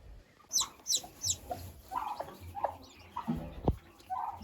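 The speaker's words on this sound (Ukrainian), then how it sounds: "У нас квочечка є, курчатка є." Soft, faint clucking from a broody hen with high, thin chick peeps scattered over quiet background noise.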